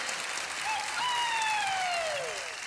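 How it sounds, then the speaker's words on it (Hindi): Studio audience applause on a TV singing competition for children, a dense, steady wash of clapping with a rising electronic whistle-like tone sliding through the middle. "जोरदार तालियां हो जाए"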